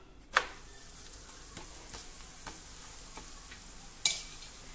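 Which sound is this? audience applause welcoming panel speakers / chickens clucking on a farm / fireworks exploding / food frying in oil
food frying in oil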